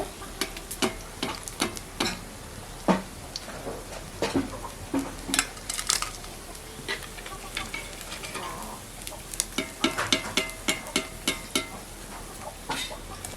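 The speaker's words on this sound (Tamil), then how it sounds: "இப்போ இதே மாதிரி எல்லா மீனையும் வந்து பொறிச்சு எடுத்துக்கலாம்" Masala-coated fish frying in a pan of oil, with continuous sizzling broken by sharp scraping and clicking strokes of a spatula as the pieces are stirred and turned, close and fairly quiet.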